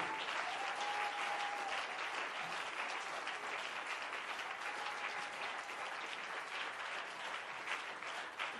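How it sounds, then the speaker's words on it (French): A church congregation claps in sustained, dense applause, steady and fairly distant, filling the whole room without letup. "Can we clap the Lord once again for him?"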